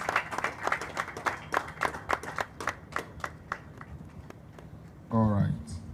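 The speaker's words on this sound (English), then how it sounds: "Please, we can do better with that clap," Sparse, sharp hand claps from a small audience at a governorship debate, irregular and tapering off, followed by a brief burst of talk near the end.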